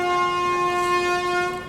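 Horn of a passenger train arriving on the Konkan Railway, a loud steady tonal blast held throughout, close and alone without speech.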